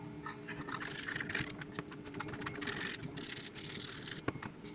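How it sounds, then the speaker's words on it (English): Sandpaper of 120 grit rubs by hand over a surface in steady, light back-and-forth strokes, a soft continuous scratchy hiss that is close and fairly quiet, with no talking. "You just kind of let the sandpaper do the job."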